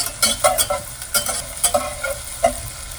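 Yellow onions cooking down in a pan, a soft continuous sizzle broken by sharp scraping clicks of stirring at an uneven rhythm, close and fairly loud, with no voices.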